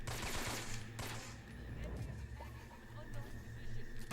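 AK rifle gunfire in Metal Gear Solid 3 rattles in sharp bursts over a steady low engine-like drone, with a voice talking over it.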